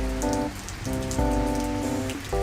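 A continuous rain effect hisses under looping musical tones in a bubble tea maker game built in Scratch. The tones stop and restart in short phrases, and no one speaks.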